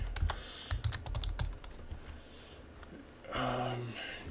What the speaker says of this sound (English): Wow, I cannot type this morning.